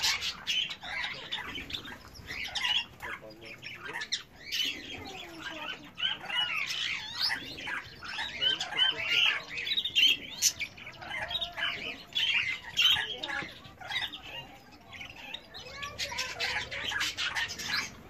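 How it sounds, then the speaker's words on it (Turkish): A small caged bird, kept on a vitamin-supplemented diet, chirps and squawks in quick irregular bursts with faint wing flutters, close by and fairly quiet throughout. "Bir küçük kuş var."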